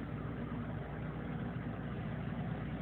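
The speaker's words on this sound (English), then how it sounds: "comes the other tractor to get the other piece of wood" A tractor engine idles steadily and close by during wood hauling for a burn pile, a continuous low rumble with no revving, alone without voices.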